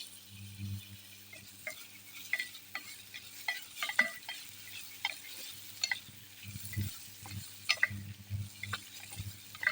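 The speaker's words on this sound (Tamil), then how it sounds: "அதுக்கு நெக்ஸ்ட்டு தக்காளி போட்டுக்கலாம்" Green chillies and tomato stirred in a pan for sprouted pearl millet pulao, a soft steady frying hiss under repeated scraping and clinking stir strokes, close and moderately quiet, with no talk.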